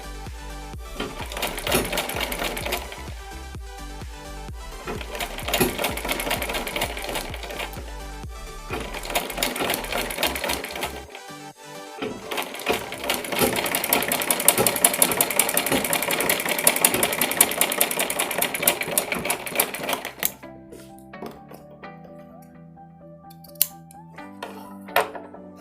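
An electric sewing machine stitches around a suit neckline, its motor running in steady bursts with a rapid needle chatter, pausing between runs and ending in quieter mechanical clicks and handling sounds.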